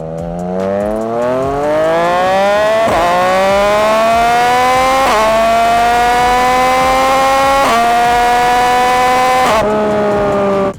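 Yamaha MT-09 motorcycle accelerating hard, engine note climbing steadily through the gears with sharp, clipped breaks at each quickshifter upshift, about four shifts in a row, loud and close with no talking.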